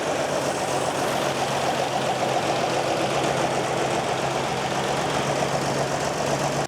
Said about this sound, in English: It's freaking idling!